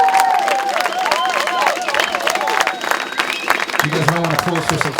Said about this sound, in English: one big round of applause, ladies and gentlemen, for all these great singer-songwriters